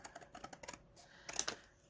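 Scissors cut index card paper along ruled lines, giving a quick run of small crisp snips followed by a louder, sharper cut, close up and with no talking.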